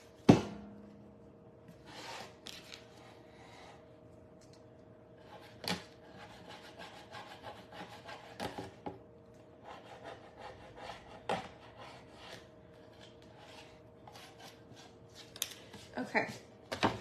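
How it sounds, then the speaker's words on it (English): Scraping across a handmade Halloween apothecary DIY piece gives repeated short rubbing and rasping strokes, close and fairly quiet, spaced irregularly over a faint steady hum, without speech. "You can just scrape it."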